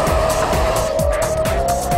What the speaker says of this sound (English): go-karts are going electric.